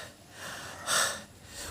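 Heavy panting after morning exercise outdoors in the Bicol countryside, a few close, breathy gasps in an uneven rhythm with one louder rasping exhale near the middle.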